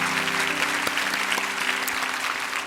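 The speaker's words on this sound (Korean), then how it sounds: "한번 이 시간에 큰 박수로 좀 격려 부탁을 드리겠습니다." A church congregation applauds the elders at a Korean New Year's Eve service, steady moderate clapping filling the room for a few seconds with a faint held tone underneath.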